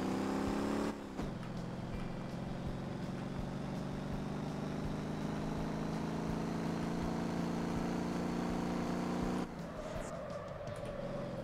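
A car engine drones steadily while driving in MotorTown, a sustained tonal hum with a gear change near the start and another shift toward the end, loud and continuous with no talking.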